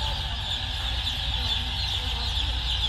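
Dense, continuous peeping of many young chicks fills a poultry control shed on their first day, a steady chorus with a constant low hum from equipment beneath it.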